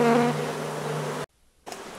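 Honeybees buzzing in a dense, steady hum during a hive cut-out, close and continuous, then briefly cut off to near silence before the buzzing resumes.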